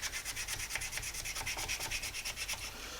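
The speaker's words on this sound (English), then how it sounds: "the moldability and softness of sandpaper, again, comes in handy" Sandpaper rubs rapidly back and forth over a carved bone fish hook, smoothing file facets with a quick, even scratching rhythm heard up close.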